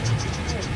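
A steamroller engine runs at the Heskin Hall steam rally, giving off an even, rhythmic chuffing pulse about five times a second over a low mechanical rumble and outdoor background.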